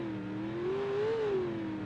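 Car speeding downhill in the driving game BeamNG.drive, its engine a steady droning hum that rises slightly in pitch, then eases off.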